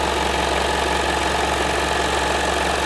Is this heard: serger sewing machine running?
yes